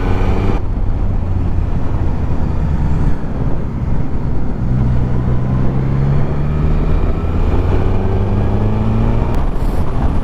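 A Suzuki GSX-S1000 GT motorcycle ridden through bends on A roads, a loud continuous engine drone with shifting pitch under heavy wind rush.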